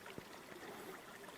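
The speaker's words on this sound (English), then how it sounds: "a little brook, a wee burn that I'm just going over, so maybe the sound can be picked up just now" A small brook, a wee burn by a quiet single-track road through birch and ferns near Callander, gives a soft continuous trickle of flowing water, faint and close, with no voices.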